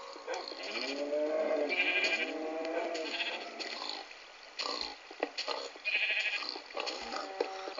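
Sheep in Minecraft bleat repeatedly: several wavering, nasal bleats in a row, fairly close and clear, with short gaps and a few soft game noises between them, and no voices.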